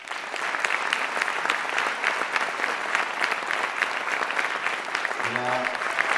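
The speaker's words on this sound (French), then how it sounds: "Lilian Thuram, que vous pouvez applaudir." Conference audience in Namur applauds Lilian Thuram with continuous, dense clapping at a steady level, while a voice speaks briefly near the end.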